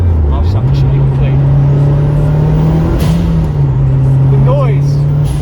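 A Honda Integra DC5 Type R engine revs up and holds a steady, loud drone, rising briefly near the middle before settling again, heard from inside the car.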